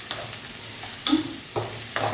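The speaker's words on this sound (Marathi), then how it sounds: "फक्त ट्रान्सपरंट फ्राय करून घ्यायचं" Onions frying in a pan for spicy Kharda chicken, a soft sizzle broken by a few scraping stirs with a spatula, close and fairly quiet with no voices.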